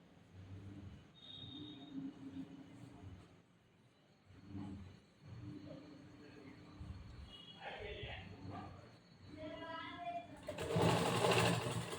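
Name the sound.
sewing machine stitching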